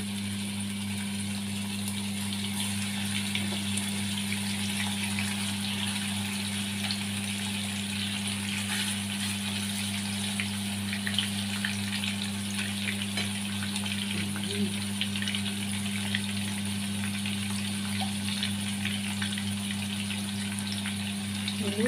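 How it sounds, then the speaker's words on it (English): Steak frying in its own rendered fat, a steady dense sizzle and crackle with faint mechanical ticking running evenly throughout, close and fairly loud, no voices. "Lutuin natin sa sarili niyang mantika."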